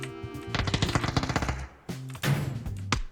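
Gunfire in the battle royale game PUBG, with a rapid automatic burst followed by a few separate loud shots in quick succession, close and sharp.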